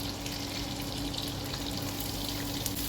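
Garlic and shallot aromatics hiss and crackle in hot oil as a dense, continuous sizzle, close and fairly loud throughout.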